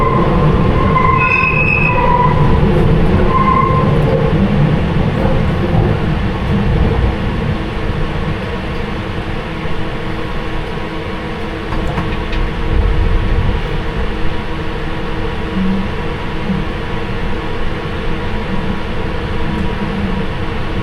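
A London Underground Piccadilly line train runs between stations, heard from the rear cab: a loud, steady rumble of wheels and motors with brief squealing tones early on and no talking.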